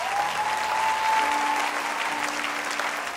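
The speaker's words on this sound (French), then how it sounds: "On peut acclamer pour elle" A church congregation applauds during a pastor's sermon, a dense sustained clapping from many hands that stays loud and even, with a faint tonal hum underneath.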